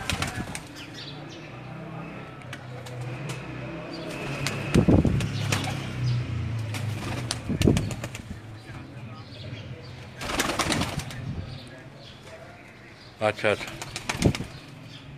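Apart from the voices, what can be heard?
Sialkoti pigeons cooing and flapping wings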